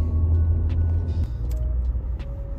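Busy road traffic on King Fahd Road, a continuous low engine rumble of idling and creeping cars with brief higher hisses like air brakes, close and steady.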